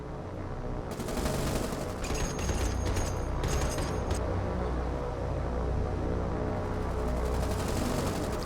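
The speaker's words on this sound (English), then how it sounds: "Hails of fire." A barrage of naval anti-aircraft and machine-gun fire in the War on the Sea naval combat game, rapid dense bursts rattling over a rumbling, continuous battle background.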